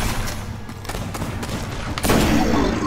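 Gunfire in the shooter game Destiny, rapid overlapping shots and thumping impacts in a continuous dense barrage, loud and close, with a heavier burst near the end.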